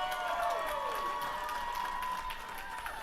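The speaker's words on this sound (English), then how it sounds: "WXC fans, let's have a big round of applause for your main event fighters tonight." Crowd applause for main event fighters after a WXC professional mixed martial arts bout, a steady wash of clapping and cheering that stays loud and dense throughout, with faint whistling tones and no talk over it.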